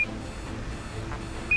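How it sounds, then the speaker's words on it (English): During the Apollo lunar landing, a short high electronic beep sounds at the start of the radio loop and again at the end, with steady static hiss between them. "Roger, 1201 alarm."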